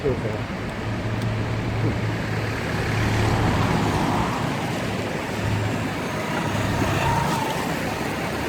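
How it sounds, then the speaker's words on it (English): A large lorry rumbles past on a road during a walk, its low engine drone and tyre roar steady and close for several seconds amid ongoing traffic noise. "Sorry, massive lorry."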